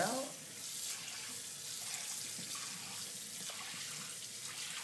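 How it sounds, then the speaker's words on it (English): A kitchen tap runs steadily while a container is swirled and rinsed, a continuous close splashing hiss lasting throughout with no voices. "is turn the water back on."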